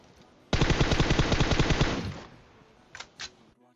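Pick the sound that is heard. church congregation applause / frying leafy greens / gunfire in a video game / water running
gunfire in a video game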